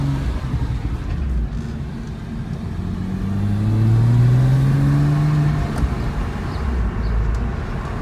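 A 2008 Porsche Cayman S engine hums steadily nearby, its pitch climbing and dropping as it pulls through successive gears, with road rumble underneath.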